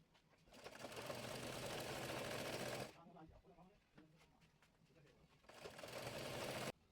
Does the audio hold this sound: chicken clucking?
no